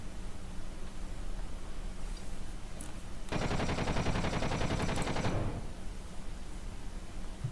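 Automatic turrets firing on a plane in a video game, a single rapid burst of about two seconds rising over a steady background hiss.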